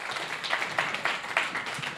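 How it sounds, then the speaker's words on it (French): A small group claps in a loose, uneven patter, with a few louder individual claps standing out over the steady spatter. "on peut les applaudir parce que c'est un effort constant"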